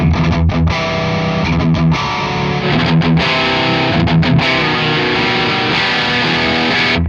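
A boosted 100-watt Marshall JCM800 guitar amp plays heavily distorted metal tones, loud and close, with chugging palm-muted riffs and sustained chords in a continuous stretch without any talking.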